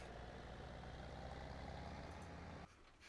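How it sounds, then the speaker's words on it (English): A large tractor engine drones at a steady, low, fairly quiet level in a farming video game set on a Mississippi River valley farm, then the sound drops abruptly near the end. "We're going to try a bigger tractor."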